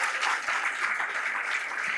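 Congregation applauding during a Spanish-language sermon, a steady dense wash of clapping from many hands that holds at an even level throughout, with no voices standing out above it.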